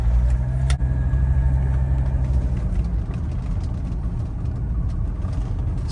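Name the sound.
1983 Mercedes-Benz 300CD turbo diesel engine running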